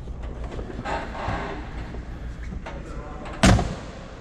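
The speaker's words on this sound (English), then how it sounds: "Door shuts, as I said." A 1966 Corvette Roadster 427 door shuts with a single sharp thud near the end, over a low background rumble.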